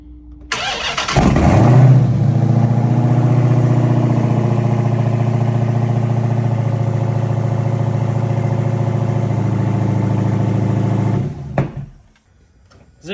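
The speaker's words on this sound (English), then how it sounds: "we have a full Hellcat motor that starts on the crate" A Dodge Hellcat V8 crate engine mounted on a stand cranks and fires up loudly, then holds a steady, powerful rumble for about ten seconds before shutting off abruptly.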